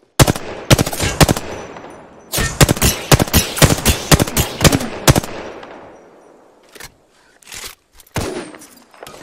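Automatic gunfire in Apex Legends, with loud rapid bursts of shots repeating for several seconds, then a pause and a few scattered single shots near the end.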